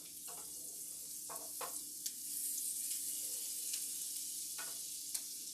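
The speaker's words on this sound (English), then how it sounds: "Now it's time to add in my butter. Okay, and let the butter cook up." Butter cooking in a pan with shrimp for shrimp scampi, a steady soft sizzle and hiss running throughout, with a few brief clinks and scrapes of a utensil over it, at low level.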